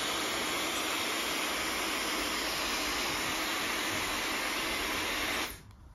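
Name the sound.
appliance running at maximum power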